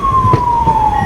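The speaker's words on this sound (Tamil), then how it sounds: "ஆம்புலன்ஸ் போயிட்டுருக்கு" A 108 ambulance siren passes near a train arriving at Coimbatore junction, its steady tone sliding gently downward, loud and close with no voices.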